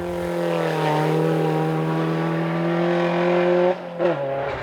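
Rally car on the Iron Bridge special stage of the Tall Pines Rally, engine droning loud and steady close by, then briefly lifting off and picking up again near the end.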